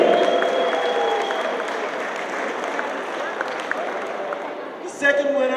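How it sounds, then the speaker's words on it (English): Applause from an audience at an art awards finale, a broad, moderate wash of clapping with some crowd noise and voices, followed by a brief brighter burst near the end. "Let's give a round of applause for Laron Wilson."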